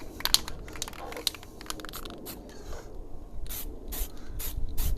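Aerosol spray paint can laying a light dust coat during car preparation work, heard as a series of short hissing bursts, close and fairly quiet, repeated across the clip with small clicks and handling noises in between.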